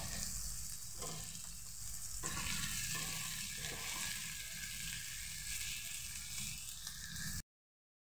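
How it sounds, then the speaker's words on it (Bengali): Onions frying with a pinch of salt in a pan for an egg dish, a steady close sizzle and crackle running the whole time with a few soft stirring scrapes, no talking. "এবার আমি ভালোভাবে পেঁয়াজটাকে ভেজে নেব।"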